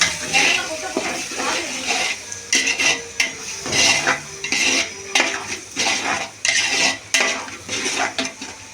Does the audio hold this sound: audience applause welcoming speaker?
no